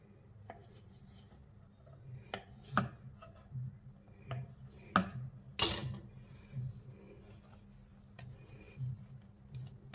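Bun dough being cut by hand in a home kitchen, with soft scattered knife taps and scraping strokes at an irregular pace, close and fairly quiet over a low background hum.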